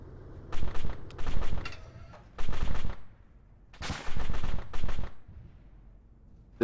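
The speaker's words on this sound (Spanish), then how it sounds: "Disparo. Enemy fire." Enemy gunfire and machine-gun bursts in a tactical co-op shooter, arriving as several sharp rattling volleys separated by short pauses, loud and near, with no talk over them.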